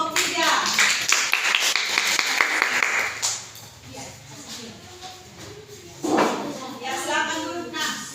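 Classroom applause for a student group rises in a dense burst of many hands clapping, stops, then picks up again more briefly, with a teacher speaking between the rounds.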